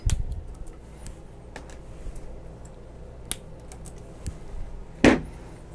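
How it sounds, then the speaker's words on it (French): Cable ties snipped on an Ender 5 3D printer: a few sharp, close clicks spread across the clip, with a louder snap near the end, over a quiet background. "Et maintenant, je vais couper les attaches."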